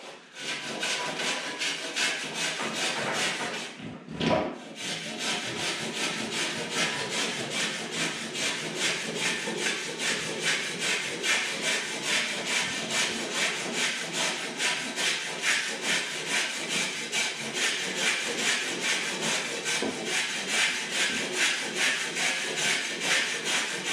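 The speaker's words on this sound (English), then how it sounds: "Just take off the square edge. The rasp." A hand rasp files the square edge off a length of plaster coving, giving a steady, continuous rhythmic scraping of repeated strokes, close and fairly loud, with one brief pause near the start and no talking.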